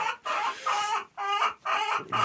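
Leghorn hens cluck in a series of loud, close, harmonic calls coming in four or five bursts separated by short pauses, with no talking.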